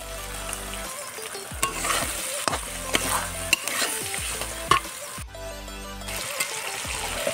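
Chicken pieces fry in oil-released spice paste for a Bengali festive curry, with a loud continuous sizzle and regular scraping stirs of a ladle against the pan, one brief lull partway through.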